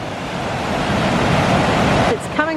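Water pours out from underneath a road in Preston County as a loud, steady rush close by, easing slightly near the end.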